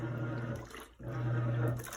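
A Giantex portable washing machine drains water in a steady rushing, gurgling flow with a low hum, close and continuous, dipping briefly midway before resuming.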